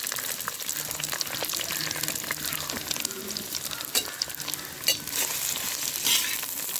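Chopped onions hit a hot pan of oil tempered with curry leaves, giving a steady loud sizzle and crackle with scattered sharp pops and stirring scrapes throughout.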